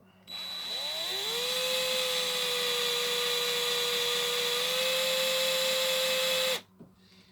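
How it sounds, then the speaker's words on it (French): A drill bores into a homemade lead fishing weight, whining steadily and loud for about six seconds, then cutting off abruptly. "on va commencer à percer le plomb"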